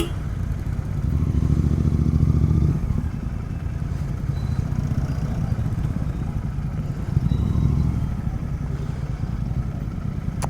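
A GT650 motorcycle rides through crowded road traffic, its engine a steady, loud drone that swells twice into heavier throttle surges over a constant rumble of road noise.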